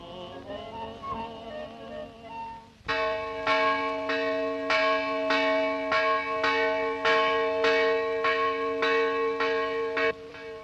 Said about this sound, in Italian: Quando suona la campana, il pranzo è in tavola.